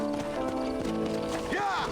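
Horse hooves clip-clopping at a quick pace in the Red Dead Redemption video game, with a brief whinny near the end and someone talking over it.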